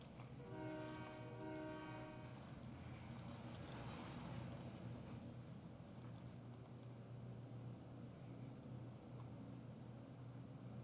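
A freight train with a caboose arriving at a depot on a branch line sounds a harmonic horn blast near the start, then a second, fainter one, over a steady low rumble of rolling cars that continues throughout.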